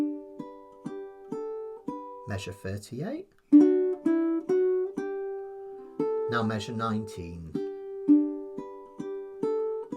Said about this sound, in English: I'll play measures 37 and 38 going back to 19.